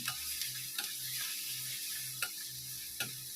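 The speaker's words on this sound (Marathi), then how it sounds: "आता आपण त्याच्यात आलं, लसूण आणि हिरवी मिरची ह्याची पेस्ट आहे ती टाकून घेऊ." Ginger, garlic and green chilli paste sautéing with browned onion in a pan, a steady low sizzle broken by several sharp scrapes and clicks of a stirring spoon, close and alone without talk.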